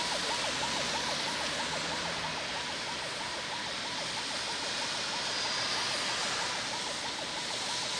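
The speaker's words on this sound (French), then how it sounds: "Difficile pour cette ambulance de se frayer un chemin dans ce bouchon interminable." An ambulance siren wails in a repeating, rapid up-and-down pattern through a traffic jam on the Adjamé-Indénié road in Abidjan, set against a steady hiss of surrounding traffic and rain.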